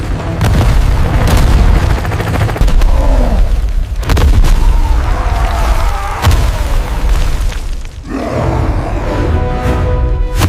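A launcher fires in a cartoon comedy scene, giving loud, dense booming explosions that roll on almost without pause, with a sharper blast near the middle and another near the end.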